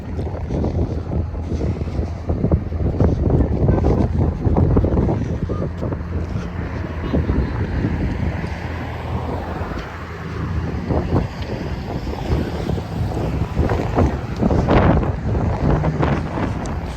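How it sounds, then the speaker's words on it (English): Heavy gusty wind buffets the microphone outdoors at Hampton Beach, New Hampshire, a constant low rumbling roar with swelling bursts throughout and no speech audible. "Sorry for the noise, folks. It's got to be, it is windy."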